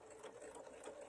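A sewing machine stitches a mini quilt block with its locking stitch and sensor foot engaged, producing a fast, even mechanical whir that stays faint and steady through a brief stretch.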